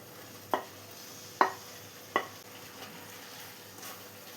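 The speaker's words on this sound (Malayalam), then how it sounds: "അപ്പോൾ എല്ലാം കൂടെ മിക്സ് ചെയ്ത് കൊടുത്തിട്ടുണ്ട്" A prawn biryani mixture is stirred in a pot, with three sharp spoon knocks against the metal over a faint low simmer and no voices.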